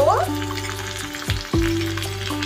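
Tomato tipped into spice masala sizzling in a pan for a snail (guguli) curry, cooked with miniature toy cookware; a steady sizzle with a brief stirring clatter midway over a faint tonal background hum.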